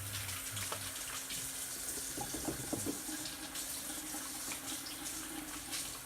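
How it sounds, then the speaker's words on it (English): Hands being washed under a running tap at a sink, a faint, steady stream of water splashing for several seconds, with a few brief rattles partway through. "Meanwhile, I'm going to wash my hands."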